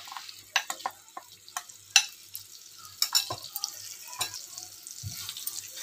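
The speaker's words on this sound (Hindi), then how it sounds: "अभी हम इसमें पनीर को डाल देंगे और इसे अच्छे से फ्राई करेंगे।" Cubes of paneer fry in about two tablespoons of oil in a pan, a soft sizzle broken by scattered clinks and scrapes of stirring, close and without talk.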